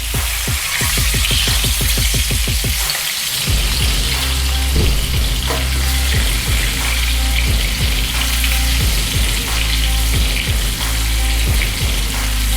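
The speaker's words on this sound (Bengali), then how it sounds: "ডিমগুলো একটু আমি লাল করে ভেজে নেবো।" Duck eggs frying in oil in a pan, a loud continuous close sizzle with crackling pops and spatters throughout, briefly interrupted by a scraping stir.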